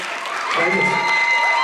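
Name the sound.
audience clapping and cheering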